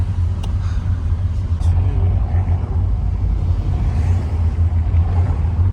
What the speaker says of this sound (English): I knew there would be so much traffic, so I suggested to take the metro, but Andre wanted a taxi, so here we are.